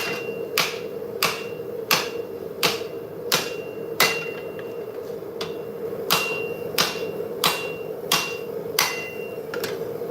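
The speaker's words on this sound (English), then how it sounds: "I'm swinging my big hammer because I love this." Heavy hammer blows ring out on metal being forged, in a steady rhythm, about one strike every half second to second, loud and close with no talking.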